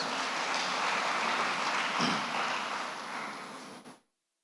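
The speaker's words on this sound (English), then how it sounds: "So give yourselves a hand of applause." An audience at a leadership program commissioning ceremony claps in a dense, steady wash of applause that fades and stops abruptly after about four seconds.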